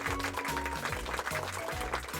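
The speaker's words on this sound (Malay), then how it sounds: "bagi tepukan good job kepada kumpulan merah" A class of Year 5 pupils gives a round of applause in a classroom, a short burst of quick, moderately loud clapping from many hands.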